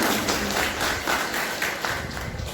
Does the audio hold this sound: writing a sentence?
no